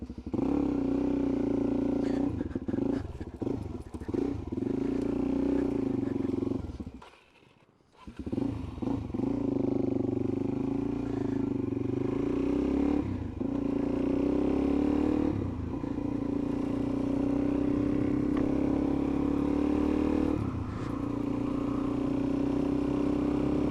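A Suzuki DRZ 400 motorcycle being ridden, its engine droning steadily and loudly up close, with revs rising and falling through gear changes and a brief dip near the middle.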